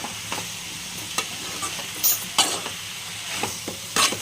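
Bitter gourd frying in oil in a pan, stirred with a spatula, giving a steady sizzle broken by repeated scraping strokes against the pan, close and alone without talk.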